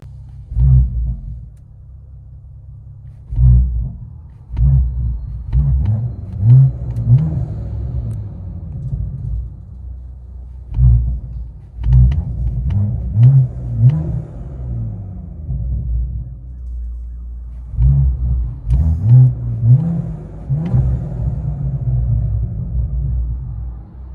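A 2019 BMW 540i with a 3.0L turbo inline-six, downpipes and straight pipes, heard from inside the cabin: a deep droning exhaust rumble with repeated rev swells and crackles, loud and close.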